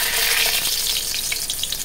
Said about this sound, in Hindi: ये थोड़े से ही भुन जाएंगे तेज पत्ते